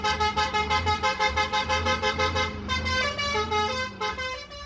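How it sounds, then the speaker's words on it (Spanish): An extra-urban bus air horn blares a tune in loud, pulsing rhythmic notes, followed by a slower phrase, with road traffic rumbling beneath. "deja uno el corazón, Nidia, cuando estos conductores de autobuses extraurbanos accionan esas bocinas de aire."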